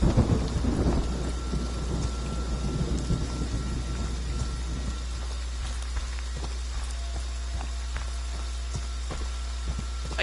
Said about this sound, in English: I'm gonna hit it while thundering and lightning out?